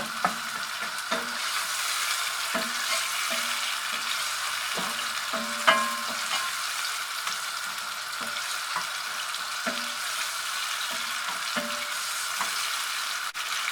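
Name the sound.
tomatoes cooking in a pan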